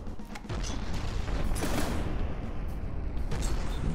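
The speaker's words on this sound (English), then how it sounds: "Good missile hits right off." Missile hits and explosions in the naval combat game From the Depths, a dense rumbling barrage of booms and crackling blasts that rolls on continuously, loud and close, with a sharper burst near the middle.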